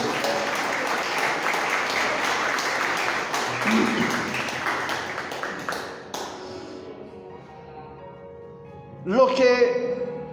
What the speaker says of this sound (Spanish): Dele aplauso al Señor Jesucristo